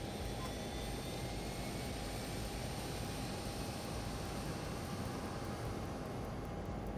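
A LearJet 35A jet engine running in Microsoft Flight Simulator 2020, a steady loud whooshing roar with a thin high whine on top, constant and unbroken for the whole stretch with no talking.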